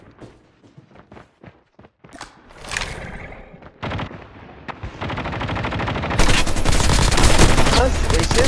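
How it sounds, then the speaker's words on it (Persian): Gunfire from a shooter video game: scattered single shots at first, then bursts building into sustained rapid automatic fire, loud and dense toward the end, with a voice talking over it. "داره تیر میزنه چقدر زیاد شدن ها"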